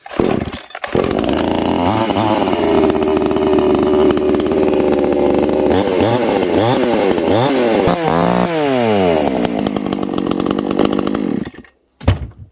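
A Chinese clone chainsaw fires up and runs loud and close, holding a steady high-pitched drone with repeated revving swells before cutting off abruptly near the end.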